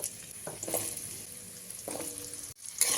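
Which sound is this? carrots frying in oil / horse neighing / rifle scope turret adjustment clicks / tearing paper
carrots frying in oil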